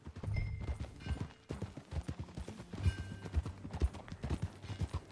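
Horse hooves clip-clop at a steady riding pace in Red Dead Redemption 2, with rhythmic thuds close by alongside faint game ambience and no talk.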